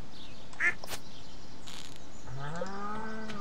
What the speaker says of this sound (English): It's a little baby duck.